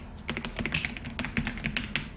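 Fast, crisp keystrokes on a computer keyboard while text is entered into an Excel sheet, a close, steady patter of taps with no voices.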